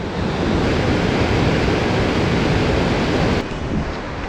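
A steady, loud rush of a flowing river in Nagtipunan, Quirino fills the scene, broadband and continuous, dropping slightly near the end.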